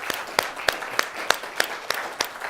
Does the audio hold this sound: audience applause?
yes